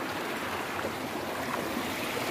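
Steady broadband rush of a waterfall near a river at Sadhupul in Himachal, continuous and even throughout with no speech over it.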